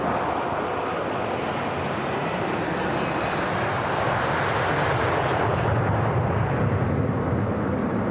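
Alaska Airlines flight 261, an airliner bound for San Francisco, roars on takeoff as a loud, steady broadband engine rush that holds throughout, with no talk over it.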